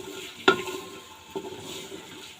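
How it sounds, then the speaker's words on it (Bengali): Potato and garlic fry together in hot oil in a home kitchen, giving a steady soft sizzle with one sharp utensil clank near the start and a lighter knock later. "সবগুলা দিয়ে একসাথে তেলে ভাজা করে নিচ্ছি।"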